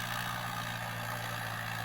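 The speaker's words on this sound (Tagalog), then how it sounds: "narurotor ng ganyang makina kaya napakaganda po niyang pang rotovator" Tractor-mounted rotovator tilling dry farm soil, a steady, droning engine hum with a constant low rumble throughout, continuous and fairly close, with no speech.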